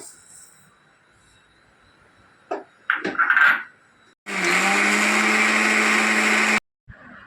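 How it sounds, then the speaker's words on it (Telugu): After a few clinks, a kitchen mixer grinder whirs loudly and steadily for about two seconds as it powders sugar, then stops abruptly, followed by a faint knock. "ముందుగా కప్పు షుగర్ని అయితే మనం మిక్సర్ గ్రైండర్లో వేసుకొని పొడి చేసుకోవాలి"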